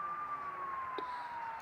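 Ambulance siren in the BUSSID bus simulator video game, a steady continuous wail that drifts slowly lower in pitch, moderately loud over a low engine-like background hum.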